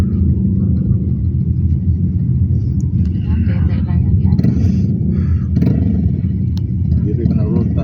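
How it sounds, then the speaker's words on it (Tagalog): A motorcycle engine rumbles steadily on a road in Roxas City, Capiz, a loud continuous low drone with passing traffic noise beneath it. "Yan ang motor, no?"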